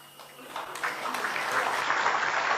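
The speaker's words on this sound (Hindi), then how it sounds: "अभी आप ताली बजा रहे हैं" Crowd applause swells at a Rahul Gandhi political speech, starting thin and building into a steady, dense wash of clapping that holds to the end.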